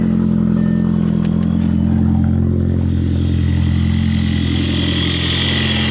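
A VW GTI with a charging fault, after a backwards jump start, runs close by at a steady, loud idle, its engine droning evenly with a few light clatters early on.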